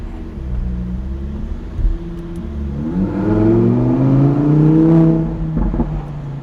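A sports car engine rumbles and revs up as the car pulls away, loud and close, the pitch rising steadily.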